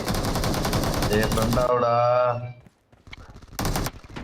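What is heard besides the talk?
gunfire in video game PUBG Mobile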